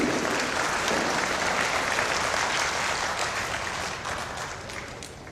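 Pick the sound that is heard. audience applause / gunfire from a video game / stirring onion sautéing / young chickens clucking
audience applause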